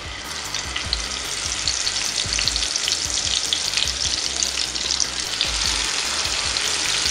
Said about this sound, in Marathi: मी इथे 3 चमचे तेल तापवून घेतलेले आहे आणि आता त्याच्यामध्ये आता एक एक करून हे भेजे